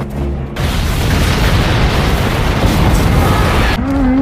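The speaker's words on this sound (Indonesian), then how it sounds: "sebuah ledakan berhasil menutup jalan mereka" A massive explosion from a samurai action film blocks a road at a village gate, bursting out as a loud, sustained rumbling blast that fills the whole moment before dropping away abruptly.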